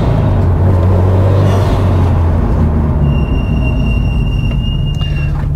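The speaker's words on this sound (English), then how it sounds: "Squealy brakes." Squealing brakes on a Subaru Impreza GR while driving: a loud, steady road and engine rumble, with a thin high-pitched squeal coming in midway and holding for a couple of seconds.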